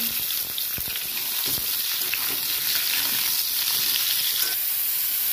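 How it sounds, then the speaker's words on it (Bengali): Raw green mango pieces fry in hot mustard oil in a pan, giving a loud, continuous sizzle and hiss with occasional stirring scrapes, close up and without talk. "এবার আমগুলো একটু ভেজে নেব"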